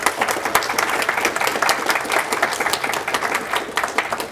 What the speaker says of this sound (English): applause for Curio